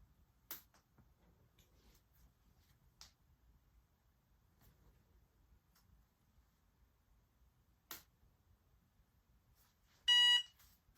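A short, bright electronic beep from a Cricut Mug Press signalling it is ready sounds once near the end in an otherwise quiet room, after a few faint clicks.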